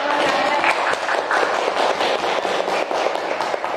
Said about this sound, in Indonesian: Sudah kita berikan tepuk tangan yang meriah untuk Ustazah